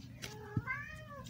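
A cat meows a single drawn-out, fairly soft call close by, with a faint background hum and a small thump just before it.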